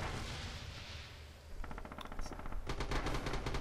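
Machine gun fire in the World War II shooter Red Orchestra 2, starting as a distant rumble, then rapid bursts building louder and closer, ending in sustained automatic fire.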